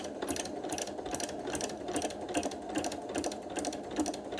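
A quilting machine stitches in the ditch on a quilt, giving a close, steady rapid clatter with even rhythmic ticks throughout.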